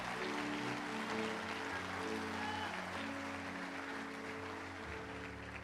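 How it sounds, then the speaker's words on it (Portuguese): A church congregation claps for Jesus in a steady, even wash of applause that sounds fairly distant, with sustained musical tones humming underneath throughout and no talking. "Dê uma salva de palmas a Jesus."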